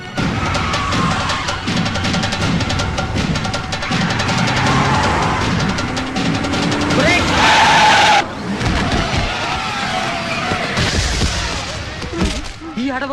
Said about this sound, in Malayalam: ഇത് അടവല്ല, ബ്രേക്ക് ഇട്ടപ്പോ കൈവിട്ട് പോയതാണ്.